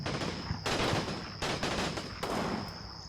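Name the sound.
MG34 machine gun firing in Combat Mission video game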